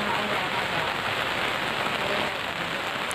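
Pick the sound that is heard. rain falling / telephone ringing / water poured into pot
rain falling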